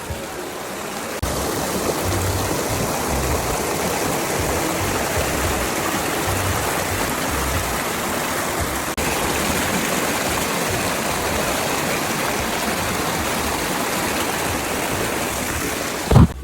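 Clear, cold stream water flowing and rushing steadily nearby at a bathing spot, a dense, constant roar that stays even throughout with no talk.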